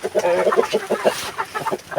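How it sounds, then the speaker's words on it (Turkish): Busy, close clucking from a group of chickens, rapid overlapping calls with a rooster among them, loud and continuous. "Horoz"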